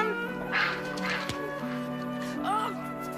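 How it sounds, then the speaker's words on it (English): A duck swimming in a well quacks several times, close and echoing, with short raspy calls spaced across the moment over a faint background hum. "in the well swims a duck"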